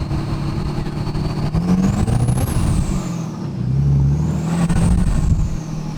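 A Cummins dually pickup truck with a large smoke stack revs hard while doing donuts in a field, its loud diesel roar rising and falling through two long throttle sweeps, close and continuous.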